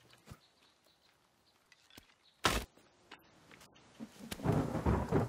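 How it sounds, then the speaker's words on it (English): Thunder in the forest survival game The Forest: a sudden loud crack followed later by a long rolling rumble, over quiet ambient background, no talk. "that thunder scared the hell out of me."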